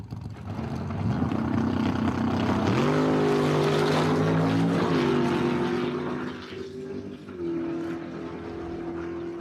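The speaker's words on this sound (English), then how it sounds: "Gary Klassoff in his bucket list Dodge Charger in the right lane" A Dodge Charger and a blue Chevy Nova drag racing side by side at Empire Dragway, engines roaring loudly and steadily with pitch rising through gear changes as the cars accelerate.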